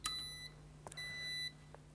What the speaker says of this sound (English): You'll hear 2 beeps.